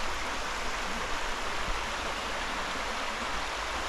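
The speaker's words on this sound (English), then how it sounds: "Is that like a natural stream then, that?" A natural stream flowing down from a waterfall at Healey Dell after a spell of dry weather, heard as a steady, unbroken rush of water that stays close and fairly loud throughout, with no voices.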